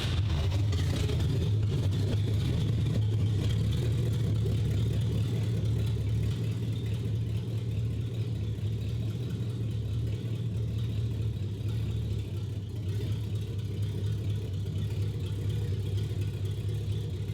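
A fire-damaged Ford Mustang's engine runs steadily during a test drive, a continuous low droning hum and whir with no pauses, fairly quiet and unchanging throughout.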